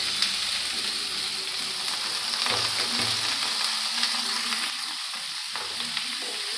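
Bottle gourd (lauki) fries and is stirred in a pan, a continuous bright sizzle with soft scraping and occasional knocks of the spoon, close and steady throughout.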